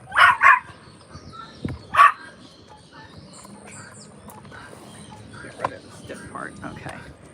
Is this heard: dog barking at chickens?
yes